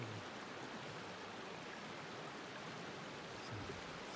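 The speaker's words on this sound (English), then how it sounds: "Here's where the mixed water spills into this pool." Mixed hot spring water spills steadily into an outdoor pool, a continuous soft broadband rush of flowing water, even and fairly faint with no voices.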